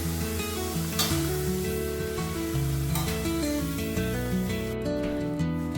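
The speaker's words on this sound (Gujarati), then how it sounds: "હવે આવી રીતે આપણે બધા પાપડ તળી લઈએ" Papad sizzles and crackles steadily in hot oil, a continuous frying hiss under light background music.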